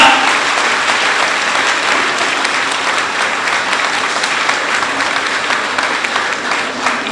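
Loud, dense applause from a large crowd at a political speech event, a steady roar of many hands clapping close by for several seconds without pause.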